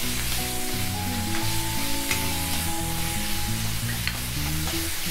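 Onions sauté in a pan for chicken paniyaram, giving a steady close sizzle with frying crackle and a faint background hum, and no one talking.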